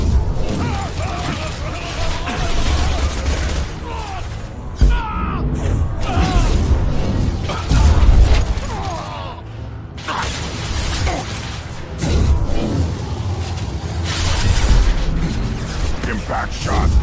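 Combat in Mass Effect 2 during Jacob's loyalty mission: continuous loud weapon fire and booming blasts, with mechanical clatter and shouting voices mixed throughout the fight.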